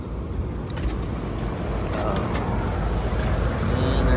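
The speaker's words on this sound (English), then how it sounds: "the compressor sounds horrible" Failing 2020 compressor in a Carrier air conditioner running rough, a loud steady low rumbling drone with a harsh, grinding texture that holds for the whole stretch, close up and without voices.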